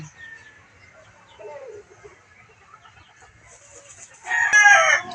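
A hen hunting for a nest to lay eggs gives soft, intermittent clucks and murmurs nearby. Near the end a louder, brief crowing call rises over the quiet farmyard.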